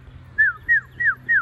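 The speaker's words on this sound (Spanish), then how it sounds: "El pajarito me está cantando aquí." A small bird sings outdoors close by on a farm trip. It gives four clear, evenly spaced whistled chirps, each rising then falling, over a faint low hum.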